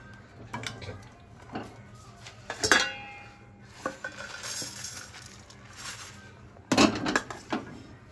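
Roasted peanuts, with the stove switched off, are tipped into another dish, with scattered clinks and scrapes of metal utensils against the dishes and a couple of louder clattering knocks.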